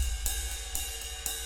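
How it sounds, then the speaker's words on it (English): Three soft, shimmering ride cymbal strikes from a sample in FL Studio 21, spaced evenly over a faint sustained wash, quiet and without voices. "and I have this ride sample as well."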